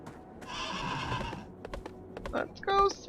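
A horse whinnies in the fantasy MMO Vanguard, a bright harmonic neigh of about a second up front, followed by scattered clicks and clip-clop taps and a short tonal chime near the end, with faint talk in the background.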